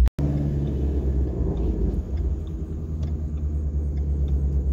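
A twin-turbo Ford GT350 running on E85 rumbles steadily while driving, a deep continuous engine drone heard close from inside the car.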